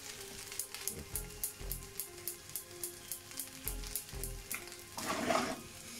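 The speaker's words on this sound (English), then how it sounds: "And then I'm going to fry off the pork." Pork frying in a pan for Chinese-style fried rice, a soft steady sizzle broken by rhythmic scraping and stirring strokes, with a brief louder hiss near the end.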